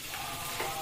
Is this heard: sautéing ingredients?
yes